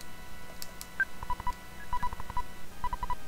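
A telephone is dialed in the video game Earthbound, a series of short electronic tones beeping in quick irregular bursts over faint background hum.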